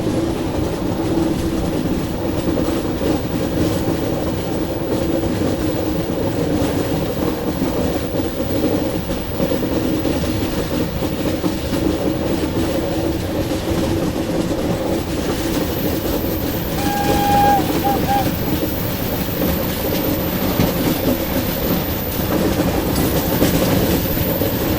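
Mandovi Express passenger train hauled by a WAP-7 electric locomotive, a loud continuous rumble of rolling coaches with rhythmic wheel clatter, and a brief thin squeal from the wheels partway through.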